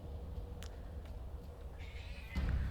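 A cat meows a few times, short faint cries over a steady low background hum, with a louder thump near the end.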